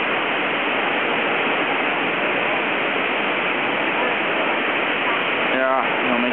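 Niagara Falls roars as a constant, heavy rush of falling water, steady and loud throughout, with a brief voice near the end.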